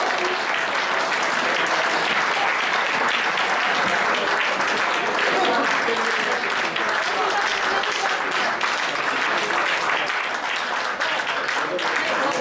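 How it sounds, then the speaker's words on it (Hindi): A Hindi poetry recital audience breaks into sustained, loud applause, dense steady clapping from a large crowd that fills the whole stretch with no pauses. "एक बार तालियां कल्पना शुक्ला जी ने बजा दिया।"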